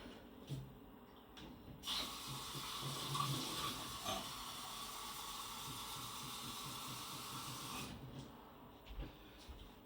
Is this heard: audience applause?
no